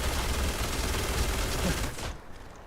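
Dense rapid gunfire in the space RPG Starfield roars loud and continuous for about two seconds, then cuts off into a quieter tail.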